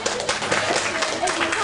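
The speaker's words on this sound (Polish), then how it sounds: "No dobrze, wielkie brawa." Audience applause at a Wrocław presentation meeting, a dense, steady wash of clapping from a crowd that continues evenly throughout, with some voices mixed in.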